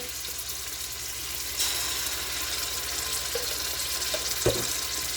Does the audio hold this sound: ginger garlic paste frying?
yes